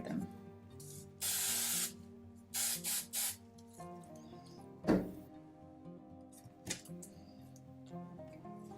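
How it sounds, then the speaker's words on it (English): Several short bursts of aerosol hairspray hiss close by onto a period wig, one long spray followed by a few quick puffs, with soft handling clicks between. "and then I'm going to spray them."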